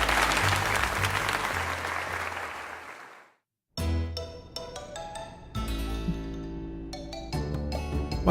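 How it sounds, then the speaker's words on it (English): Crowd applause in the Pokémon Legends ZA video game, a steady clapping roar that fades into a brief silence, then gives way to game music with chiming tones. "let us give another heartfelt round of applause to Kimmy."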